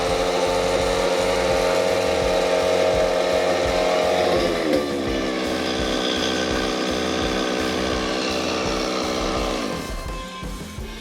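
A chainsaw running on bad gas idles and revs roughly and loudly for the whole stretch, its pitch sagging and recovering near the middle and dropping off toward the end.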